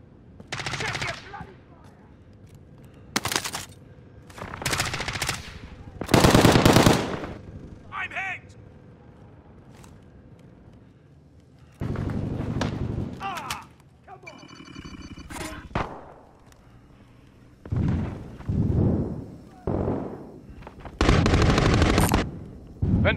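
Light machine gun fire in Call of Duty: Modern Warfare, with repeated loud bursts of automatic shots separated by quieter gaps, while game voice callouts and other battle sounds come and go between the volleys.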